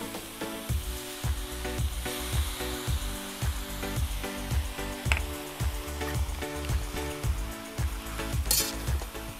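Pineapple and mushrooms fry in a pan with soy sauce, giving a steady close sizzle with a regular pulsing rhythm and a brief sharp hiss near the end.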